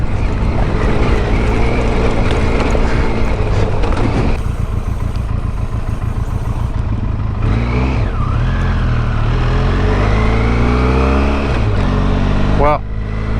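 A Benelli TRK502X motorcycle rides on an asphalt strip with a loud, steady engine drone and shifting pitch as the rider changes speed, while wind buffets the microphone and a rider talks over it.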